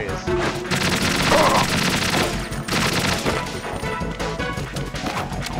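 Gunfire in the video game Metal Gear, with a dense run of shots and crashing impacts that continues almost without pause, loud and close with game music and noise underneath.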